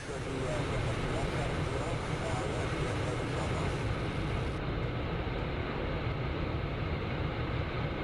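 An F-15E Strike Eagle jet roars low over terrain in the DCS flight simulator, a steady, loud, unbroken engine rush filling the whole stretch under talk.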